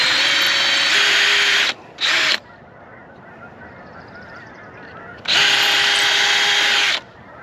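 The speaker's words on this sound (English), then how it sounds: "So before I put this on, you should pre-drill the holes" A power drill whines loudly in three bursts, one long, one short, one long, as pilot holes are bored for mailbox screws outdoors, with geese honking faintly in the background between the bursts.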